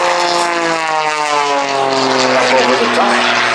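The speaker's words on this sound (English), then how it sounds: "Rolling the aircraft once again." Lucas Oil biplane engine at an airshow roaring steadily and loudly up close as it performs aerobatic rolls, with a droning propeller tone that shifts pitch throughout.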